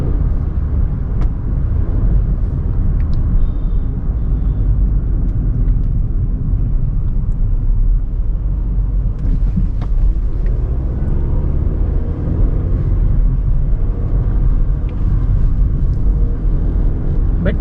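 Steady low cabin rumble inside a 2020 fifth-generation Honda City BS6 on a test drive, with a broad drone of transmission and road noise throughout and no distinct whine standing out.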